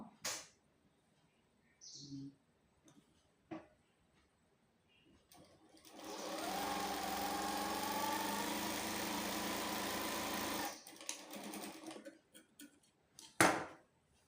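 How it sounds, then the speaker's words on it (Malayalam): Electric sewing machine stitching pieces of a pencil pant together, a steady whirring run of about four seconds between faint clicks and handling of fabric in a quiet room. "രണ്ട് സ്റ്റിച്ച് ചെയ്തോളൂ കേട്ടോ, 2 വട്ടം അടിച്ചോളൂ."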